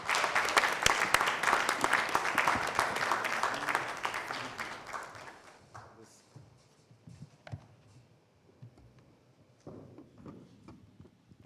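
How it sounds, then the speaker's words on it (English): Loud applause from an engineering institution audience welcoming a speaker, dense at first and then thinning into scattered claps that fade out. "Please, with a loud round of applause,"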